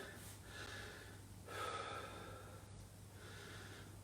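A sharp gasping inhale and heavy, snorting breaths during a quiet breathing exercise, easing toward calm; faint and close in a hushed room, with no talk.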